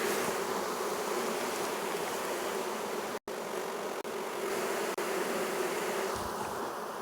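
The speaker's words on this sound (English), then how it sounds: "Big old box full of bees." Honey bees buzz in a dense, steady swarm around a hive box full of bees, a loud continuous drone with a few brief dropouts and no talking.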